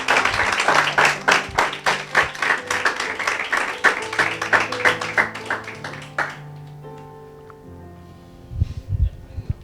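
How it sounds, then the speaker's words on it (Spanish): A church congregation claps loudly and steadily for several seconds, a dense wash of hand claps that fades out, leaving low sustained tones and a few stray sounds at the end. "¿Qué tal si le das un aplauso fuerte, fuerte a Dios?"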